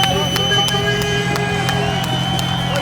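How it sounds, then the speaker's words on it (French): Applause for Pascal sounds as scattered, rhythmic claps over a steady engine-like hum and a murmuring crowd at an outdoor drift show. "Un peu d'applaudissements pour Pascal."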